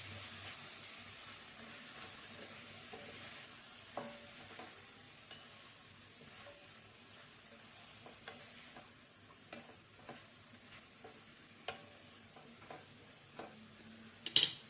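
Brinjal curry frying in coconut oil, a steady faint sizzle with scattered clicks of stirring and a sharper scrape near the end, no voices.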